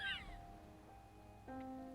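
Cat meowing in the video game Tokyo Dark, a short rising-and-falling meow at the start, then a steady game tone, quiet music notes and a faint background hum.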